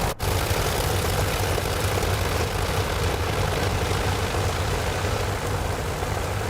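The engine of an Albatros D3 biplane in Microsoft Flight Simulator 2024 drones in a continuous, loud, low mechanical hum that holds steady, with no voices.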